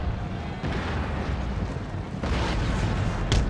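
Cannons and artillery fire in a battle in Empire: Total War, deep booming blasts rolling under a constant low rumble, with a sharper loud burst near the end.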